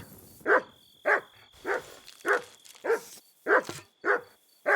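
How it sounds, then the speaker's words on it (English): A dog in the medieval game Kingdom Come: Deliverance II barks eight times in a steady series of short, loud, close barks, evenly spaced with brief gaps between them and no talking over them. "Shut up, dog."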